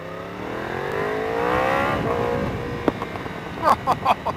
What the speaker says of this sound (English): The cracks, the pops. Crazy. Sounds really great on this motorcycle.